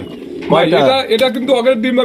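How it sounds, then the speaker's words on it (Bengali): A pigeon, with German Shield breed birds nearby, coos in a low, throaty, rolling burble that swells and repeats in short phrases. "এখানে দেখা যায় দুইটা দুই কোয়ালিটির কবুতর আছে"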